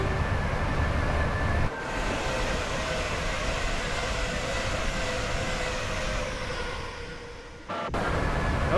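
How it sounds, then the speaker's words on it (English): Electric passenger train rushing past in a train simulator game on the West Coast Main Line near Preston, a steady loud rumbling roar that briefly cuts out twice, with no talking. "Oh, there's another train."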